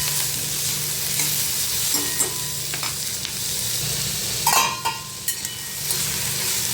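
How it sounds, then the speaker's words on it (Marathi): Chopped tomatoes and onions sautéing in hot oil for an onion tomato chutney, a steady close sizzle broken by spatula scrapes and stirring knocks against the pan, with no talking. "आता याच्यामध्ये टोमॅटो घालते टोमॅटो पण पुन्हा मी परतून घेते एका मिनिटभर"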